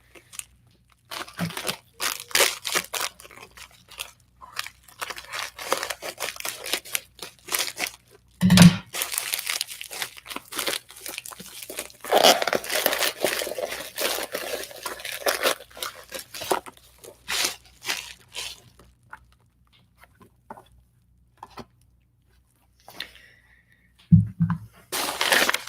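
Crinkly plastic packaging rustles and crunches in irregular bursts as it is opened with scissors, with scattered snips and tearing, close up and fairly quiet, with pauses between.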